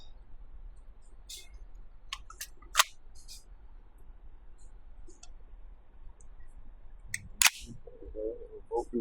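Two sharp, close metallic clicks from working the bolt release on a Ruger LC Carbine in .45 ACP, separated by a few seconds of near silence.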